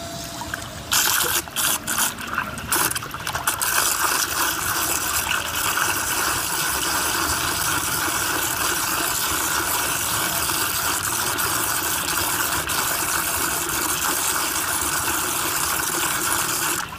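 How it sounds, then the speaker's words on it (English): Water rushing steadily through a 24V speed-adjustable brushless DC pump, model DC50E-24150A, a close, continuous hiss and gurgle of flowing liquid with some uneven splashing in the first few seconds. "we are hearing now is the noise, is mainly the noise of the water itself"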